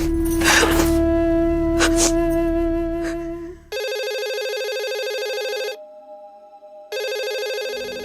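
A phone rings in repeated electronic bursts with short gaps between them, loud and close, after some clattering noises at the start.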